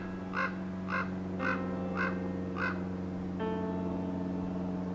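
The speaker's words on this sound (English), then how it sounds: "Must be a raven somewhere on the other side." A raven calling in the Verde River desert of the American Southwest, five evenly spaced hoarse caws about half a second apart, fairly close and clear, followed by a steady droning tone with no talking.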